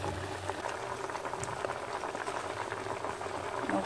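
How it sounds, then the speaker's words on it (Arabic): Olive oil going into a pot of boiling broth for rfissa, a steady bubbling and simmering that runs throughout with faint liquid crackle, close and moderately loud, no voices. "غادي نضيف دابا زيت الزيتون"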